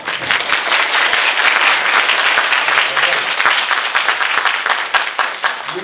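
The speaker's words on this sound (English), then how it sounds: "do me a favor, another big applause." Loud, close applause from a university audience welcoming a keynote speaker to the podium, a dense sustained clatter of many hands with sharp individual claps standing out, steady for the whole stretch.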